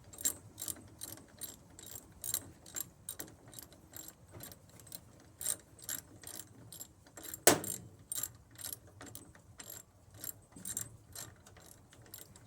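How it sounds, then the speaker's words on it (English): A ratchet wrench tightens bolts during assembly of a Performax toolbox, producing steady bursts of quick clicking pawl strokes with short pauses between them, plus one sharp metallic knock midway. "So ratchet is working fantastic so far."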